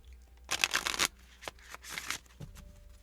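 Self-love oracle cards are shuffled by hand in a few riffling bursts, close and crisp, separated by short pauses and single taps.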